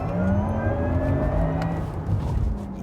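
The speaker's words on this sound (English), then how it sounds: "if you activate the Sport Sound option, it unleashes an audible rainbow of sci-fi dreams" Synthetic Sport Sound drive tone from a 2020 Porsche Taycan electric car, a loud sustained sci-fi whine with rising and falling pitch sweeps over a low rumble, steady throughout with no talking.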